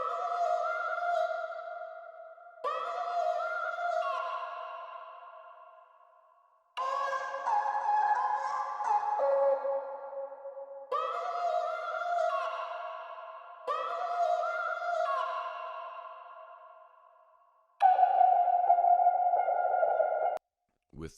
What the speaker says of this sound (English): Then I added another exhale patch, which sounds like this.